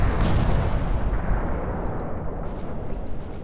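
A torpedo slams into a warship in Ultimate Admiral Dreadnoughts with a heavy, rumbling naval blast, a dense low roar that starts loud and slowly fades over several seconds.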